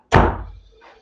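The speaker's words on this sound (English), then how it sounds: "I'm going to close my door because my dog came in." A home door is shut with a single solid thud, close and loud, decaying quickly, followed by a faint rattle.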